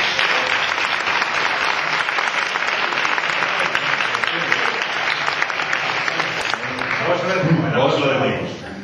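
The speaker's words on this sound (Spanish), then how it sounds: "Un aplauso." A theatre audience at the Casino Teatro de Castropol breaks into sustained, loud applause, dense clapping filling the room, with a few voices and cheers rising near the end as it tapers.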